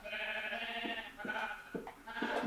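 Sheep in the video game Minecraft bleat several times in quick succession, each cry a short wavering call over a steady game background hum, with no talking.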